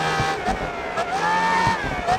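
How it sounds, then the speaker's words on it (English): A high-pitched race car engine whine from the GRID Autosport video game, rising and holding steady in pitch through gear changes, loud and continuous under a faint wash of wind-like noise. "Listen to that engine whine. Listen to how high pitched it is."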